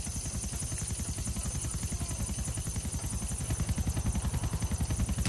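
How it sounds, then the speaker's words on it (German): Helicopter flying in the video game GTA IV: The Ballad of Gay Tony, a steady rapid rotor chop with a constant engine whine, loud and close, continuing without talk. "Jo, ein Helikopter."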